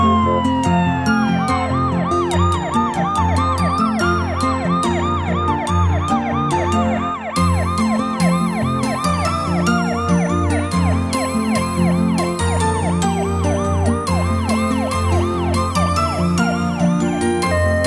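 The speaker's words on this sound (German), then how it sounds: "Ein Krankenwagen." Ambulance siren in a children's cartoon, a loud, bright electronic wail that cycles rapidly up and down over a busy musical backing and continues throughout.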